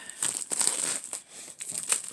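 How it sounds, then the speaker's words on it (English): Crinkly cardboard scraping and tearing in short bursts, close up, as a box is worked open by hand; no talking. "I'm trying to cut this without tearing the box."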